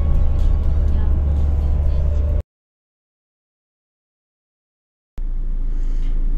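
A car drives along a city street at night in Szczecin, heading to a customer's car battery replacement. It makes a steady, close engine and road rumble that cuts out completely for a few seconds midway, then returns.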